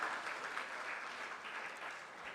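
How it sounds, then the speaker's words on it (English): Audience applause at an SME manufacturing convention, welcoming a Cabinet Secretary: a steady, even wash of hand claps from a large crowd in a hall, sustained at moderate level with no speech over it. "A big hand clap for the Cabinet Secretary."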